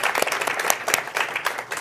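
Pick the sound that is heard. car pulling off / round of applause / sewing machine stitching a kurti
round of applause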